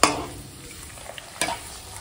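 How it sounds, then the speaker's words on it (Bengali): Papad fries in hot white oil in a wok, giving a soft, quiet sizzle with a couple of sharper crackles and clatters. "তো এখন পাঁপড়গুলো ভেজে নিচ্ছি"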